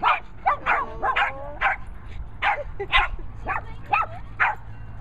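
A small dog at a dog park lets out a run of high, sharp yips and short barks with whiny tones, fairly close and loud, in quick irregular bursts over faint outdoor background.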